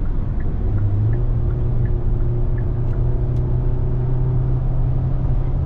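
A 2022 Kia Sorento X-Line S three-row SUV with 191 horsepower, weighing about 4,000 pounds, accelerating to pass, its engine a steady low hum that climbs in pitch over road rumble.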